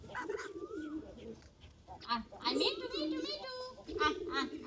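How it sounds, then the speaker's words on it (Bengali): A common myna near its nest gives short whistling and warbling calls, close and fairly clear, mixed with people talking nearby. "ওই যে শালিক পাখি"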